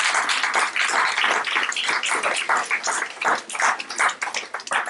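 A church congregation applauds together, a dense, sustained clatter of many hands with uneven swells, fairly loud and continuous throughout, with no speech over it.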